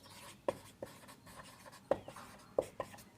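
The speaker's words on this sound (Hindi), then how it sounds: "चलिए मैं इसे लिखता हूँ।" Chalk or marker strokes on a board come as a few sharp taps and short scratchy strokes, close and fairly faint, with a quiet room in between.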